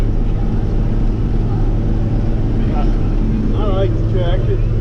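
A John Deere 4640 tractor engine runs steadily, a loud, continuous low rumbling drone throughout, with brief voice-like sounds briefly rising above it near the end.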